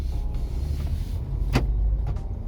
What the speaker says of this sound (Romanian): Mașina s-a încuiat automat.